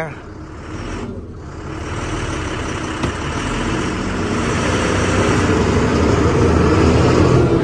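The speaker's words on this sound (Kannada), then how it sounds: "ಇಲ್ಲಿಂದ ಗಾಡಿ ಮೂವ್ ಮಾಡ್ತೀನಿ. ಇಂಜಿನ್ ಸೌಂಡ್ ನೋಡ್ರಿ ಹೆಂಗ್ ಬರ್ತದೆ." A truck's engine labours in a steady, loud low roar as it pulls away on the snowy Zojila pass, building slightly in strength toward the end.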